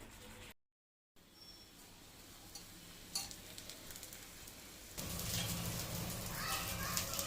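Aloo tikki potato patties shallow frying on a tawa, a soft steady sizzle that swells louder and hissier after a short gap and a few clinks, with no talk.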